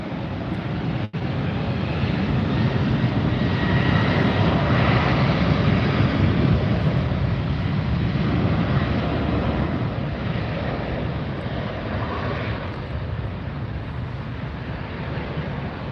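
A jet airliner takes off from runway 25 at Los Angeles International Airport, a loud, steady engine roar that fills the whole stretch without letup, heard close by and alone with some wind buffeting the microphone.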